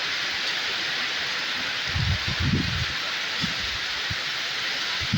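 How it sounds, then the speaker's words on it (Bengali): Steady heavy rain in a daytime storm in Assam roars without pause, with a few low rumbles and thumps of wind or distant thunder mixed in. "বহুত তুফান বৃষ্টি এসে গেছে"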